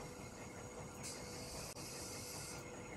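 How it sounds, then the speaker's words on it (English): Old train running in the game The Lost Crown, a steady rumbling rattle of carriages on rails with a high hissing squeal layered over the middle, continuous and close. "That's an impressive old train."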